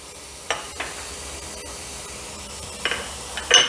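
A small chopped onion sautés in a pan for Kerala-style mutton curry, a soft steady sizzle under a few brief scraping stirs, close and fairly quiet.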